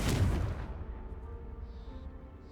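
In Hogwarts Legacy, a Confringo fire-blast spell bursts out in a single heavy boom right at the start, then its echo thins out and dies away over a couple of seconds.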